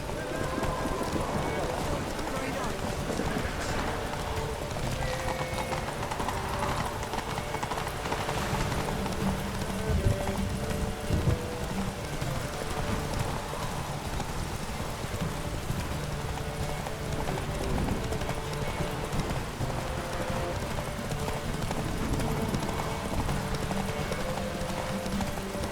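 In The Witcher 3, horses gallop in a race with a continuous, rapid clip-clop of hooves at moderate volume that holds for the whole stretch, with faint voices in the background.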